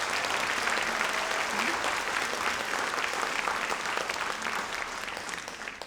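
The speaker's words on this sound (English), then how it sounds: "Can you give them a round of applause?" An audience at a nursing candle lighting ceremony claps in a dense, sustained round of applause that stays loud and even, tapering slightly at the end.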